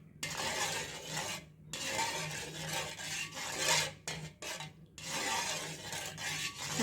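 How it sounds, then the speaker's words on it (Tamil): Condensed milk is stirred into an agar agar mixture in a pot, producing repeated scraping and rasping strokes of a utensil against the pan, close and fairly soft, with short pauses between bursts. "சேர்த்து கிண்டி விட்டுக்கலாம்"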